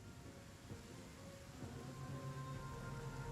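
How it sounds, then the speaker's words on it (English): Rain falls in the video game Afterparty, a steady soft patter and hiss heard in the background at low level, with a faint low rumble underneath, without any talking. "I thought the rain would hurt."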